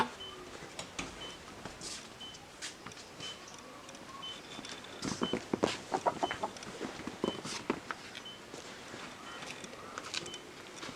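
Chickens cluck intermittently in a rural yard, soft and somewhat distant, with brief louder bursts midway and faint footsteps and movement around them.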